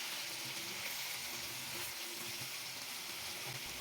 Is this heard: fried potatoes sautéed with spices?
yes